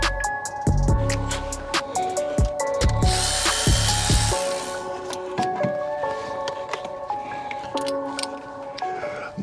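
A power tool rattles and ratchets in bursts as it works on a seized pulley on a Mercedes W204 C63 AMG engine with a failed bearing. Close, loud mechanical clatter and whirring stop and start, with voices heard in between.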